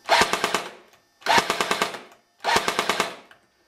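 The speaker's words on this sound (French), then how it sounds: "Si je tire maintenant, vous allez entendre 5 tirs." A Wizard King Kong airsoft gun fires three separate bursts of five rapid, sharp shots each, with short pauses between bursts. The shots are close and crisp.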